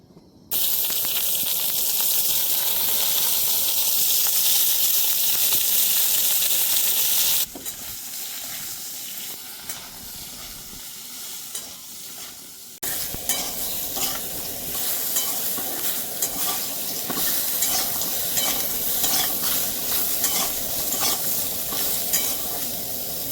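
Mixed vegetables tip into a pan of hot oil where sun-dried lentil dumplings have just fried, giving a loud, steady sizzle with stirring; the hiss eases briefly, then returns with busy scraping and crackle throughout.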